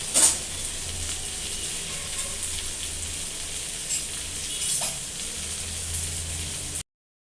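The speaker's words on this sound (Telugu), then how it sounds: "కొద్దిగా హైలో పెట్టి వీటన్నిటి ఈ మసాలా మొత్తం పట్టే వరకు ఫ్రై చేసుకుందామండి." Chicken pieces fry in masala on high heat, giving a steady crackling sizzle close by at moderate level, with a few brief spatters and no talk.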